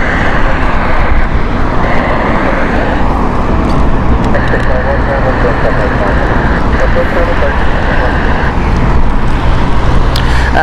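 A 12-year-old Airbus A320ceo airliner at Heathrow Airport, a loud, sustained engine roar with a steady whine, heard close and continuous without a break.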